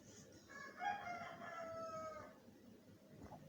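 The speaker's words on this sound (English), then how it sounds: "Why are these chickens so noisy and troublesome?" Chickens clucking with a rooster crowing: a single drawn-out cock-a-doodle-doo rises over a bed of background clucking and farmyard noise, moderately close, with no voices.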